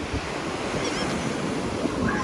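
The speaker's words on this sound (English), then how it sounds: "These waves coming in, baby." Ocean waves roll in at the beach, a steady wash of surf with wind buffeting the microphone throughout.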